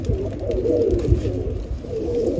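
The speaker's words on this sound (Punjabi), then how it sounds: "ਚੈੱਕ ਕਿੰਨੇ ਮਸਤ ਕਬੂਤਰ ਨੇ" Racing pigeons coo repeatedly close by, low throaty rolling calls overlapping in a loft amid a soft background hum, with no talking.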